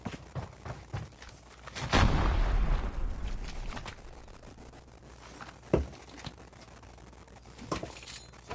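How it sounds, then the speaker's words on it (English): A grenade blast in the mobile shooter Call of Duty Mobile, one broad booming explosion with a rumbling tail, followed by scattered gunfire pops and a sharp crack. "Grenade!"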